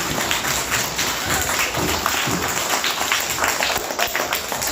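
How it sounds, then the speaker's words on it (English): Audience at a school Christmas celebration in Diphu claps hands together, a dense, steady patter of many hands filling the whole stretch, fairly loud and continuous. "Now clap your hands."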